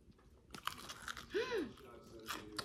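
Crispy fried chicken is bitten into close up, giving a few crunchy bites and chewing sounds, with a brief vocal murmur partway through.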